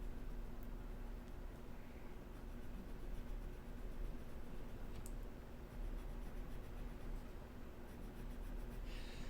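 Colored pencil, worn duller and rounded at the tip, scratching steadily across paper in broad shading strokes, a continuous close, soft rubbing texture with a few faint clicks and no talking.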